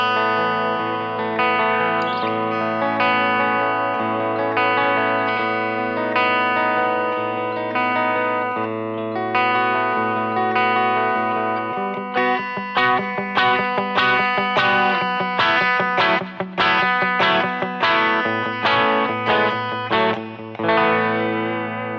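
Dean MAB 1 Armorflame electric guitar on the bridge pickup, played through effects with distortion and chorus: sustained chords ring out, then a busier passage of quick strummed and picked notes, loud and close with no talking.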